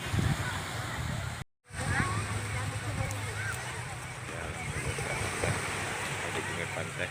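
Steady wash of surf rolling on a shore, with breezy noise and faint voices in the background, after a brief dropout near the start.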